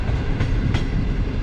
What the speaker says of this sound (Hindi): ट्रेन कितना स्लो पास कर रही है